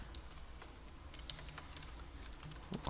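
Code typed on a computer keyboard, a faint, fairly steady patter of light key clicks over a low hum, close and continuous with no voice.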